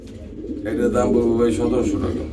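A pair of pigeons, a male and a female offered for sale, give low, rolling coos that swell and hold for about two seconds at close range, with a faint voice in the background.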